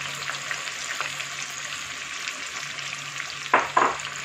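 Onions fry in oil in a pan until brownish for a chicken biriyani, giving a steady soft sizzle alone, with two sharp clatters of stirring near the end.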